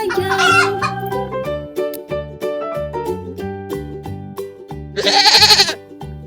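A bouncy sung children's tune, Old MacDonald Had a Farm, with instruments, where a voice imitates chicken clucks in a playful rhythm, ending with a loud burst of clucking.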